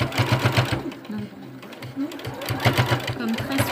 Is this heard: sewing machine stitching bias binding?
yes